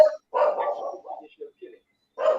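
Dogs bark in a few short, rough bursts at a protest, with gaps of silence between the barks and a final loud bark close by.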